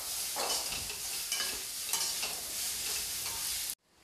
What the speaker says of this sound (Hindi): सब्जी को पकते हुए लगभग 2 मिनट हो चुका है लो फ्लेम पे